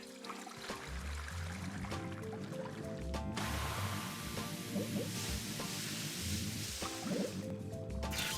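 Watering a flower in a video game: a continuous squishy, dripping liquid sound effect that keeps playing, with a pouring, water-filling quality and occasional bubbly blips, loud and steady throughout.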